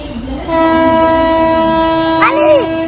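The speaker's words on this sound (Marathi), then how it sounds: "आली ट्रेन." An arriving train's horn blares loudly and steadily close by, with rumbling rail noise underneath and a brief shifting tone near the end.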